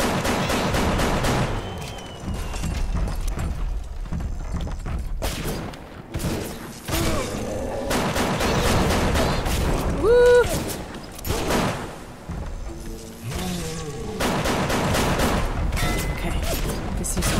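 Pistol loaded with armor-piercing rounds firing in BioShock, a run of loud, sharp gunshots spread through the span amid busy game sounds and mechanical clatter.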